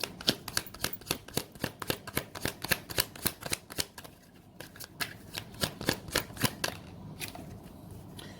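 Tarot cards are shuffled and drawn, giving a rapid run of crisp, rhythmic flicks and snaps close by with a short pause midway. No voices are heard.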